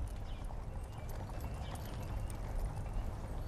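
Racehorses gallop past during a horse race, a dense, continuous drumming of hoofbeats that stays fairly close and steady throughout.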